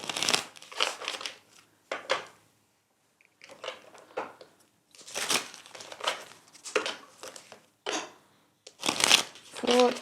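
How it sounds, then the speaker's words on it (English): A deck of tarot cards is shuffled in repeated crisp riffling bursts with short pauses between, close and clear. "Let's shuffle the deck and get some more messages."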